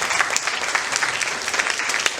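A public-speaking class audience breaks into close, dense applause, loud and steady for a couple of seconds with no talking over it.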